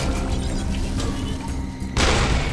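A rocket launcher fires in Borderlands 2, a sudden loud booming blast near the end that cuts in over busy, continuous gunfight noise.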